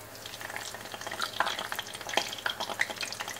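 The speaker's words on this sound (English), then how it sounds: "So I'm gonna go ahead and fry these tortillas up." Tortillas frying in oil in a pan, a continuous close sizzle with crackling pops and stirring scrapes throughout, no voices.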